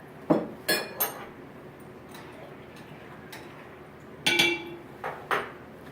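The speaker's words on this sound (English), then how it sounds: "And then I give it a stir." Nuts and seeds soaking in a bowl are stirred with a utensil, making a few sharp clinks and taps against the bowl in two short bursts, with quiet gaps between and no voices.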